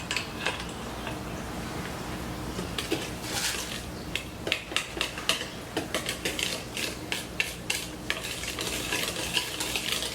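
Thick chocolate sheet cake batter being whisked in a bowl: steady scraping and swishing, then a run of sharp, rhythmic clicks and taps from the whisk against the bowl, close and fairly loud with no talking.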